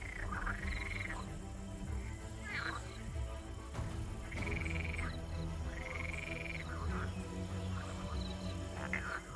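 Male frogs call in the wet season, repeated loud rising croaks and nasal bleats in overlapping bouts, close and prominent against a dense background chorus, with a calm voice speaking over it.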